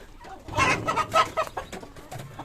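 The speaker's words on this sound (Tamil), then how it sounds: "கோழிலாம் அடைச்சாச்சு." Hens cluck and squawk in a farm coop, close and fairly loud, a busy overlapping burst of fowl calls with no talking.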